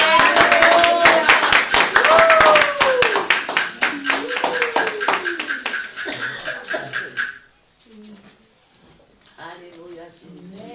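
A church congregation claps in a steady, brisk rhythm during a Sunday thanksgiving service, with singing voices carrying over it. The clapping fades out and a lone voice speaks and sings in the quieter stretch that follows.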